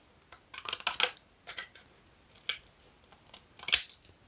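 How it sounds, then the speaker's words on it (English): A few crisp snipping cuts as scissors trim paper into a decorative border for a pop-up card, spaced irregularly, close and fairly quiet, with soft rustles between. "make sure you line up your scissors so that you have a nice, clean,"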